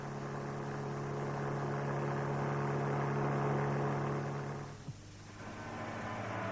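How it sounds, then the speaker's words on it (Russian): A fan motor gives off a steady low electrical hum with strong even harmonics, holding constant and fairly loud before briefly dipping near the end. "Звук близкой частоты исходит от мотора вентилятора."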